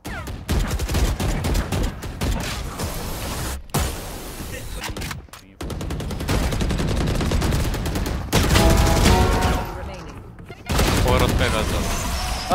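Automatic gunfire sprays in Valorant, loud close bursts of rapid shots rattling almost continuously with brief gaps between volleys, mixed with other game effects.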